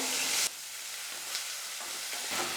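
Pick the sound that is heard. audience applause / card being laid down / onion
onion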